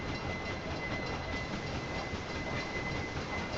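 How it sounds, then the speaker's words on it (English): A train in the railway game Railway Empire rumbles along as a steady, continuous rolling noise with a faint high whine, moderately loud and unbroken. "we see another train entering on the right."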